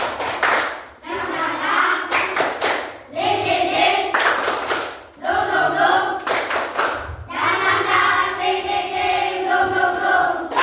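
A classroom of students performs tepuk semangat, a patterned rhythmic clapping chant, with bursts of loud group claps alternating with chanted voices in a repeating cycle, close and energetic throughout.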